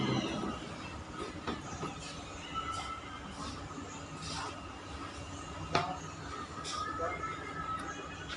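Riding an MRT metro train in Singapore: a steady rumbling roar with hissing air, faint clicks and brief squeaks throughout, fairly quiet and continuous.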